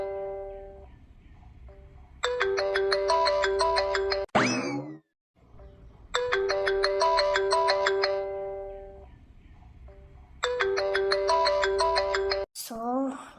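A personal mobile phone rings with an incoming call: a bright melodic ringtone repeats in three loud bursts, each broken by a quick swooshing sweep.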